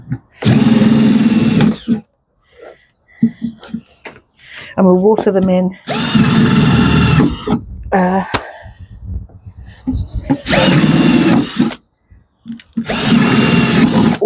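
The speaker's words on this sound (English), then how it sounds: "Just drilling the holes in the bottom of the pots for the peppers." A power drill bores holes in the bottoms of plant pots for pepper plants, with four loud, sustained whirring bursts of a couple of seconds each and speech in between.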